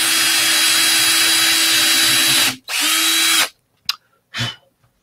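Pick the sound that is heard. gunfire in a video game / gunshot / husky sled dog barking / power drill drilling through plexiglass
power drill drilling through plexiglass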